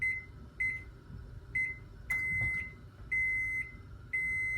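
A home range beeps as a timer is set, a series of short bright electronic tones in irregular succession, fairly clear over a quiet kitchen background with a soft clunk midway.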